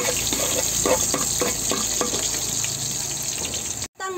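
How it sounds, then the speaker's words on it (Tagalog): Garlic sautéing in a hot pan, a sizzling hiss with a series of scraping stirs at a steady rhythm, fading toward the end before a short break. "Magigisa na tayo. Unang-una sa lahat ay bawang."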